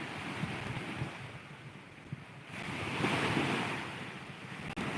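Strong ocean waves at the beach, a continuous loud surf roar with surges and rough wind buffeting the microphone, no voices.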